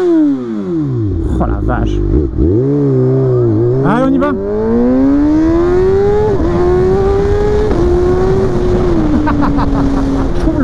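A 2020 Kawasaki ZX6R sport motorcycle with a 136 hp engine revs hard and climbs through the gears while riding, its loud whining pitch rising and dropping at each shift, with a rider speaking briefly over it.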